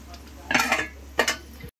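A spoon scrapes and clinks against a pan in two short stirring bursts as gravy is mixed into a vegetable cashew paneer biryani, close by, then cuts off.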